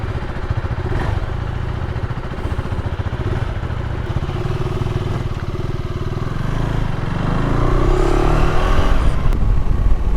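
A KTM 390 Adventure S motorcycle is ridden on the road, its engine droning steadily up close with wind rush, then growing louder and rougher toward the end as it accelerates.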